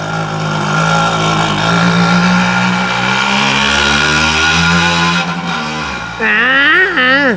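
A Yamaha moped revs along a seaside promenade in Afitos, Greece. Its close, loud engine drones steadily, then climbs in pitch in rising sweeps near the end, with voices in the background.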